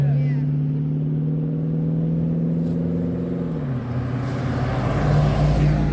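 A hot rod on a road tour performs a burnout, its engine droning loud and low with a rising, shifting pitch as it revs, while people talk nearby.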